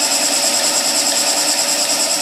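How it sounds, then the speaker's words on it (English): A skew chisel cuts wood on a spinning lathe, a loud, continuous whirring hiss with a steady motor hum, close and uninterrupted. "I bet it's going to cut better with the long point down going in that direction."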